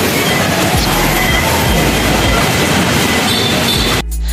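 An MRT train at Taft station in Manila rumbles loudly and steadily with rail clatter and wheel noise, close and continuous before cutting off abruptly near the end.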